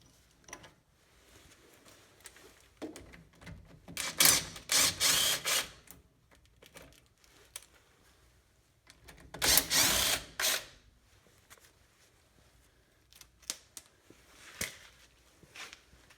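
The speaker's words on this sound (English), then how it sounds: "we'll get the two 13 millimeter bolts holding the caliper on" Ratchet loosening the 13 mm brake caliper bolts on a Ford F-150: two clusters of rapid clicking bursts a few seconds apart, with quieter clinks and handling noises in between.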